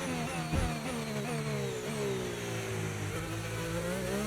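An F1 car in a video game screams through a qualifying lap at Bahrain, its high engine note rising and falling with gear shifts and corner braking, loud and continuous without a break.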